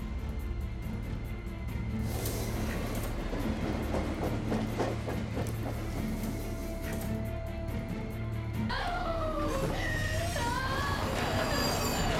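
Steady rumble and rattling of a train moving along the rails, with squeals and clatter rising partway through.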